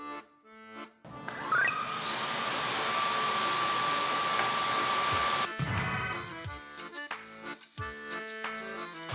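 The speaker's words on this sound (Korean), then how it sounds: "충전된 청소기들을 풀파워로 작동했을 때" Cordless vacuum cleaners, a Dyson V10, LG A9 and Samsung Jet, run at full power with a loud, steady high-pitched motor whine for several seconds, then cut off, followed by scattered clattering and knocking.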